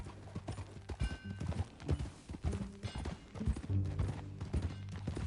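Horse hoofbeats in the video game Red Dead Redemption 2, a quick, steady clip-clop of several hooves at close range, fairly quiet, with little talk.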